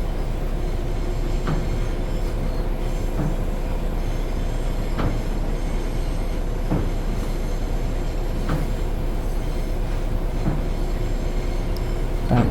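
A rail head treatment train in a train simulator game picks up speed on the Birmingham Cross City line, a steady low rumble with regular wheel clicks over rail joints every second or so, continuous and fairly loud.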